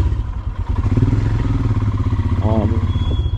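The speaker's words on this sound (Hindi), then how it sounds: "बाइक पे बैठ गए हैं फाइनली और चलते हैं" A motorcycle engine runs and rolls off at the start of a monsoon ride toward Tamhini Ghat, a loud, steady close-up rumble with clatter throughout and a brief tonal chirp partway through.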